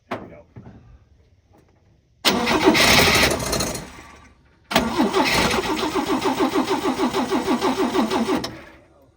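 A 1968 AMC Rebel 550 with a freshly rebuilt carburetor cranks briefly, falls quiet, then fires and settles into a loud, steady idle with a rhythmic pulsing beat close by.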